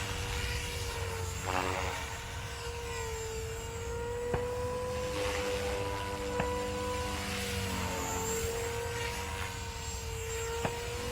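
Walkera Dragonfly V500D01 six-channel RC helicopter flying overhead, a steady high rotor and motor whine with pitch wavering as it maneuvers, constant and fairly loud throughout with no voices.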